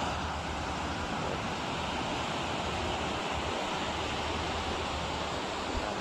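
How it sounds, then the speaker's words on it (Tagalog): Steady surf of sea waves at Bunsay Beach in Olongapo, Zambales, a constant broad wash of water with wind noise over the microphone, fairly loud and unbroken throughout. "Ito yung dagat, napakalinaw yung dagat."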